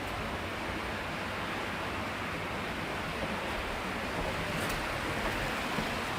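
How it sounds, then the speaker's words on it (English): Water flowing below a lookout at Irons Park in Ogemaw County, Michigan, a faint, steady, even rush heard from a distance with no voices. "So you can see, you can hear the water down there."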